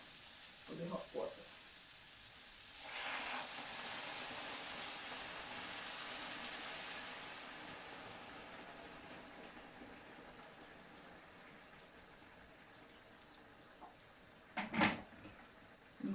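Hot boiling water from a kettle poured into a pot of Hellshire-style fish soup, a steady broad rushing pour lasting several seconds, with a few clinks and a brief voice at the end.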